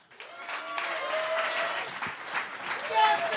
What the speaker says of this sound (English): please give a warmer than warm round of applause for Steve